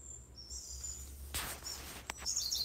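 Small birds sing in a forest, their faint, high chirps and trills scattered through quiet background with a brief rustle and thump in between.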